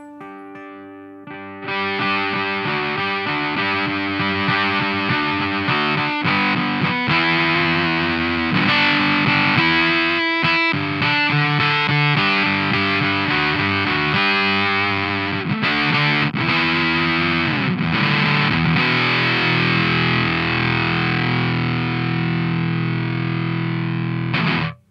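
A heavily fuzzed electric guitar through a Warm Audio Foxy Tone Box fuzz pedal with gain turned all the way up plays thick, saturated sustained chords and notes, loud and dense with distortion, running nearly continuously without talk.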